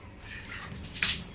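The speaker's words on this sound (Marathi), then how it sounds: "आणि परत एकदा थंड पाण्याने स्वच्छ धुवायचे" Fresh, wet cashew kernels being rinsed under cold water give a soft running-water wash, then a brief, bright splash near the end.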